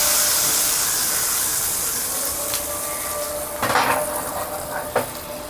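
Hot tempering of curry leaves, red chilli and hing poured into kadhi, a hissing sizzle that fades over several seconds, punctuated by a few sharp metallic clinks of a pan and utensil, close by, no talking.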